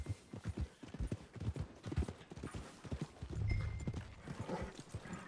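Horse hooves clip-clop in steady rhythm while riding in the Red Dead Redemption video game, close and fairly loud, with a brief low snort or whinny partway through.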